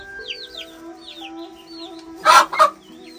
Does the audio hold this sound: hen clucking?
yes